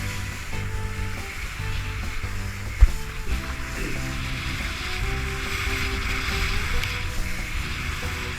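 Choppy ocean water with a small swell at Belmont Shores, Long Beach, a steady wash of waves and wind with a faint thump partway through, no voices.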